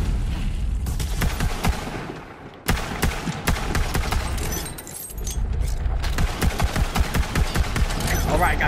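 Rapid, dense gunfire from a Borderlands 3 boss fight, bursts of loud shots rattling almost continuously with brief lulls, close and forceful.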